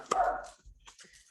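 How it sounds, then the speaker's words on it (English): Dog giving a single sharp bark close by, followed by a few softer, fainter yips and whimpers in a quiet room. "Sorry about the dog."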